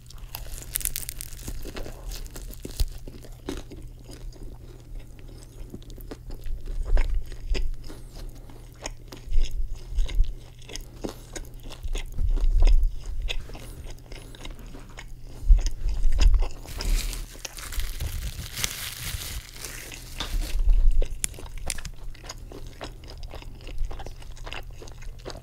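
Cheesy garlic bread is bitten and chewed up close, with loud crunchy bites, crackling crust and wet chewing repeating for the whole stretch and no talking.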